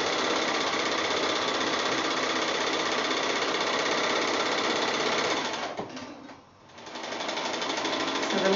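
A sewing machine stitches quilt block seams with a steady, continuous motor whir, near and loud, briefly slowing and dipping toward a pause before running on again at full speed.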